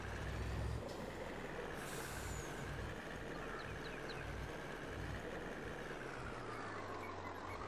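Low rumble of a heavy truck engine idling in Farming Simulator 22, with a brief sharp hiss of an air brake near the start.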